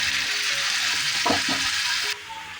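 Ginger garlic paste hits hot oil in a pan and sizzles loudly and steadily up close, with a brief stirring scrape midway before the hiss drops lower.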